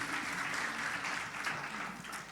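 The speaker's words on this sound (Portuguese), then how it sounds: "Salve de palmas para o Senhor" Congregation claps in praise to the Lord at a prayer-school church gathering, a steady sustained wash of many hands at even loudness throughout, with faint voices beneath.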